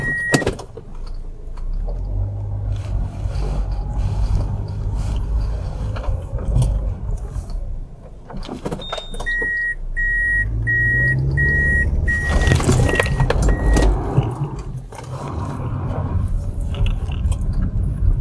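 A car attempting a J-turn at too low a speed, with engine revving and tyre noise over about eighteen seconds, punctuated by repeated short electronic warning beeps partway through.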